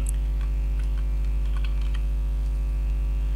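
Someone types a search term on a computer keyboard, giving a run of light, uneven key clicks over a steady electrical hum, with no talking.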